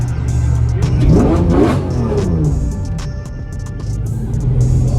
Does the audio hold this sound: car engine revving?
yes